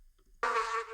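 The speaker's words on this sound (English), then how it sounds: "Those are bees." Recorded bees buzz as a nature sound sample, one steady, loud, droning hum that starts abruptly and holds for under a second.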